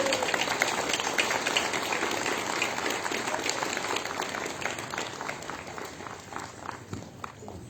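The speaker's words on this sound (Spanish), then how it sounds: "Un aplauso bien fuerte para el Señor." A church congregation at a Palm Sunday Mass in a school applauds, with dense steady clapping that runs continuously and thins slightly toward the end, with no voices on top.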